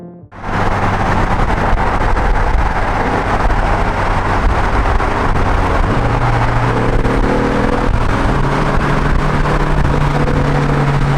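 Honda Civic and Ford Mustang accelerating hard side by side in a street race, loud sustained engine roar with rising revs and gear changes, no talking.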